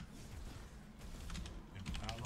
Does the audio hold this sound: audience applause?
no